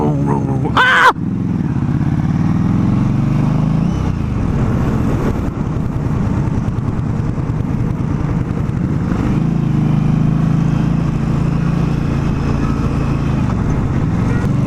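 An Indian motorcycle rumbles along on a demo ride, its engine note rising and falling as it shifts and revs. A brief sharp noise comes near the start, and wind buffets the ride throughout.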